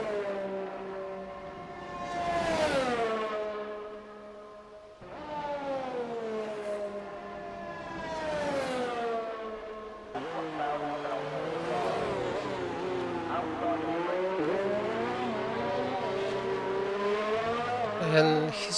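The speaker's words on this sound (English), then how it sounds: "now it will be full throttle to the chicane" Racing car engines from F1 2019 on Xbox at the Belgian circuit, revving up through the gears at full throttle in repeated rising sweeps, loud and close, with continuous engine howl and commentary speech over it.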